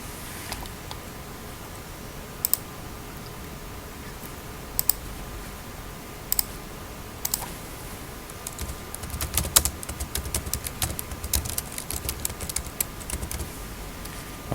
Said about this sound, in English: I'll go back and type the name of my employer